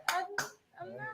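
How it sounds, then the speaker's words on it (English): Two sharp, close slapping claps in quick succession, then a short voiced sound after a brief pause. "Booty clapping sounds."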